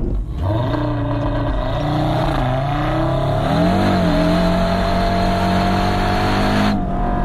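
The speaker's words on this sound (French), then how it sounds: "on a la version la plus puissante de ce 5 cylindres turbo absolument iconique de chez Audi" A five-cylinder turbo engine in a 2020 Audi RS Q3 Sportback revs loud and close, its pitch climbing and dipping in sustained sweeps with no talk over it.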